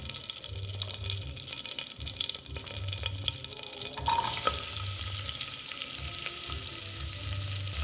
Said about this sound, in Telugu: కట్ చేసిన ఉల్లిపాయలు కూడా వేసుకుందాం.